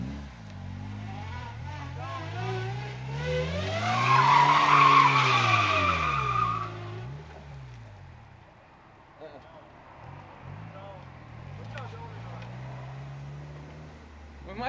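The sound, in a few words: car skidding during a handbrake turn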